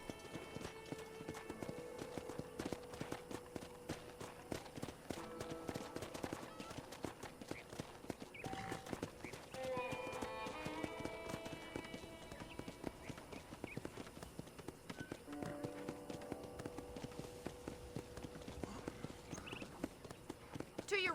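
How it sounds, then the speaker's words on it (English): Horse hooves clip-clop in a steady rhythm from Red Dead Redemption, with a faint whinny, under a voice and game music. "I picked out a fine horse for you. Giddy up!"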